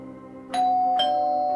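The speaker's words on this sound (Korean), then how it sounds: "초인종을 눌러보았다" A doorbell at the back door of a closed shop rings a two-note ding-dong, bright sustained chimes close and loud over a faint background hum, with no voices.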